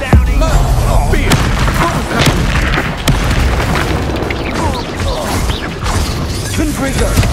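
Confringo blasting spells explode in Hogwarts Legacy combat, loud booming bursts and crashes layered over dense game noise, a continuous battle din with repeated sharp impacts.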